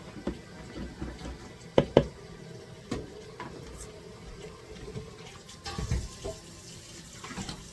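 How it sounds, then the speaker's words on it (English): Hot water runs from a tap into a container and sink at home while laundry soap is being made, a low steady rushing and splashing with scattered faint knocks and clatters of stirring. "we're stirring while the hot water is filling up the container and the sink"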